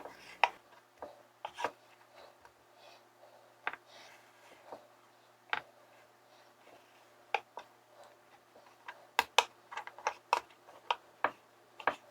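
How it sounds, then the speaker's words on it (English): Knife chopping vegetables on a cutting board for pork fried rice, a run of irregular sharp taps with bursts of quicker strokes, close and fairly quiet with no talking. "we're going to get to chopping some of the vegetables and stuff that we're going to put into the pork fried rice"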